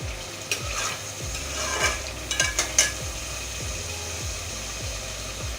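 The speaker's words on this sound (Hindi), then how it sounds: "अब मसाला बना रही हूँ जिसमें टमाटो पेस्ट, प्याज, लहसुन और अदरक का पेस्ट शामिल है।" A masala of tomato paste, onion, garlic and ginger paste frying in a pan, sizzling steadily as a spoon stirs in regular scraping strokes about twice a second, close up and without talk.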